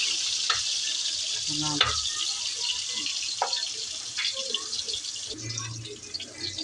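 Tomatoes fry in hot cooking oil in a pan, a steady hiss of sizzle broken by a few clinks and scrapes of a utensil, close by.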